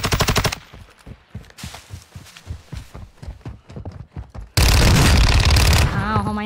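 Machine gun fire in Call of Duty: Warzone 2.0: a rapid burst of shots, then a series of separate, evenly spaced reports, ending in a sustained loud blast of gunfire and explosion noise.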